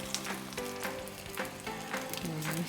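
Scallion pancake with smoked oyster frying in a pan, a steady close sizzle with crackling oil bursts and a faint tonal hum underneath, no talking.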